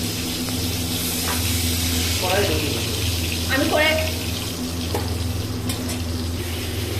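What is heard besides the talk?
prawns frying in oil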